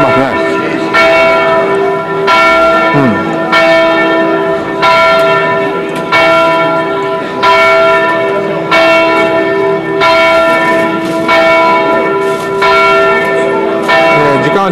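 Church bells in Venice peal loudly and steadily at midday, struck in a regular rhythm with rich ringing overtones filling the air, close and dominant throughout.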